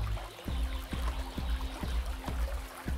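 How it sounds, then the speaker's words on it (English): Water falling in a sheet from a garden water feature beside a Buddha statue: a soft, continuous trickle with faint, regular low thumps roughly every half second, quiet and close. "The noise of the water falling in the form of sheet adds to the soothness of this space"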